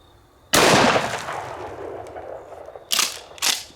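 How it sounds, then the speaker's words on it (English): Remington TAC 14 shotgun firing Winchester 2 3/4 inch double-aught buckshot: one loud close blast with a long decaying tail, followed by two sharper, shorter bangs near the end. "Now let's see how it holds up to a shotgun. This is a Remington TAC 14"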